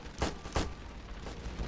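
Bunker fortress turrets firing in the video game Ravenfield, two distinct heavy shots close together followed by fainter distant shots, no talk.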